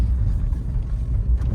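Steady low rumble of a car driving, with a constant engine drone and uneven bumps from a rough road, no talking.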